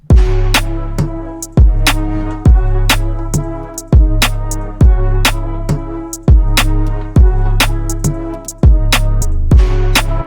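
A dark UK afro swing beat plays loud and alone, with punchy deep kicks and crisp percussion hits in a steady bouncing rhythm under sustained dark melodic tones.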